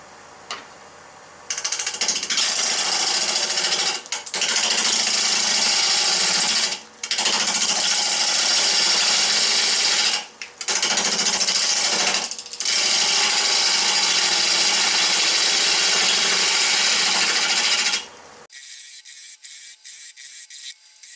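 A wood lathe spinning a pumpkin box at about 700 RPM gives a loud, continuous whirring and scraping drone for long stretches, briefly cut by several short pauses, then stops and leaves a quiet hum.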